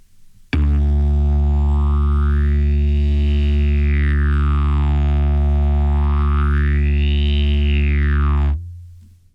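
Didgeridoo overtone exercise: a steady, loud low drone held for about eight seconds while a vocal-tract overtone sweeps slowly up and down twice between O and E shapes, ending abruptly.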